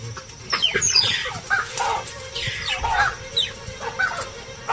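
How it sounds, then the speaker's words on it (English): Sharp, high mongoose alarm calls repeat in quick chirping bursts, loud and close, with short gaps between them over a low rustling background. "Mongooses are quick to warn of danger, and the baboons respond swiftly to their chirping alarm calls."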